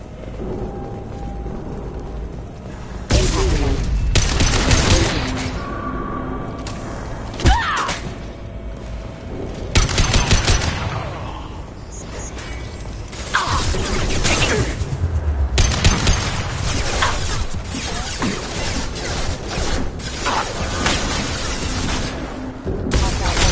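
Gunfire in Mass Effect 2 crackles in repeated bursts across a busy firefight, loud and close, with mechanical clanks and a voice heard now and then between volleys.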